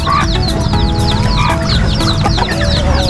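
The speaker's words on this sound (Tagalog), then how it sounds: "mayroon po akong mga bagong pasisiw ngayon na native" Native hens and newly hatched chicks clucking and peeping together, loud and close, a dense continuous chorus of overlapping calls with no voices.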